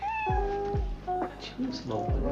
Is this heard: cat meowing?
yes